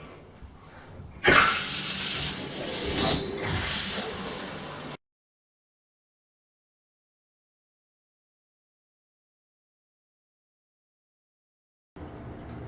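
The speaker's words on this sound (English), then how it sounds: "I'm going to hose this off in the tub so I can get hot water and rinse off as much of the Barkeepers as I can" Hot water from a bathtub tap rushes over a 20-gallon tall aquarium being rinsed clean, a loud broadband spray for a few seconds that cuts off abruptly into silence before a faint return at the end.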